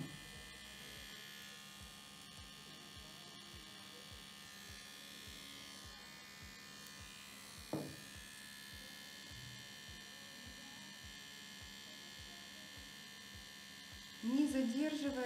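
A permanent makeup tattoo machine buzzes steadily as its needle works on lips, a faint even electric hum with a soft regular pulse, broken by a brief knock and a short louder burst near the end.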